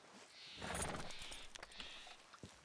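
A horse in the Red Dead Redemption 2 video game gives a short snorting whinny with a light clatter of hooves, heard alone at moderate loudness for a couple of seconds.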